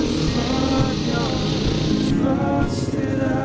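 Enduro dirt bike engine running steadily and close, a dense continuous drone with slight revving changes, loud throughout with no talk.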